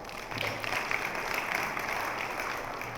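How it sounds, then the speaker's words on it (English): Steady applause from a community forum audience, a dense even patter of many hands clapping at moderate distance, sustained without break. "give yourselves a round of applause"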